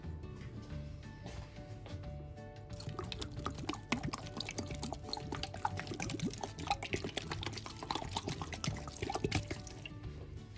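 Vinegar is poured over freshly trimmed celery stalks and leaves to rinse off dust and soil, giving a steady, close liquid pour and trickle that runs the whole way through with no talking.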